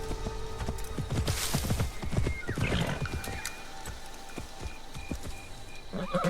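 A horse in the video game Assassin's Creed Shadows clip-clops along at a brisk, irregular gait and lets out a clear neigh partway through, hooves close and moderately loud over a soft ambient background.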